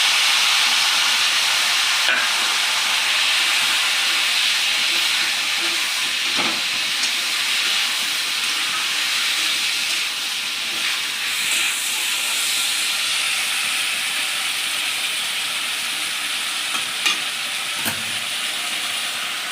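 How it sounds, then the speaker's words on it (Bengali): Half a kilo of shrimp sizzles in a hot pan, a continuous loud frying hiss throughout with a few faint clinks and stirs. "এই যে এখানে আধা কিলো চিংড়ি মাছ আছে, মাছ কটা সব ঢেলে দেবো।"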